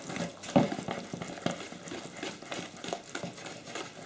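Spoon stirring liquid into low-protein pancake batter in a bowl, a soft wet churning with a few sharper knocks of the utensil against the bowl, steady and close with no talking.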